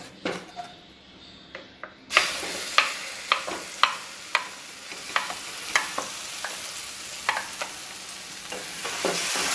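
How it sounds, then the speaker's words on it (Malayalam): Tomato and onion paste frying with Kashmiri chili powder for mutter paneer, stirred in a pan: a quiet start, then a loud steady sizzle from about two seconds on, with a dozen sharp spoon scrapes at an uneven rhythm. "നമുക്ക് ഈ അരച്ച് വെച്ചിരിക്കുന്ന തക്കാളിയുടെ ഉള്ളിയുടെയും കൂടെ പേസ്റ്റ് കൂടി ഇതിലേക്ക് ചേർത്ത് കൊടുക്കാം"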